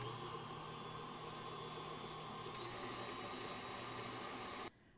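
An electric mixer whirs steadily while beating butter for cowboy cookies, a close, even motor whine with a slight pitch shift midway before it switches off near the end.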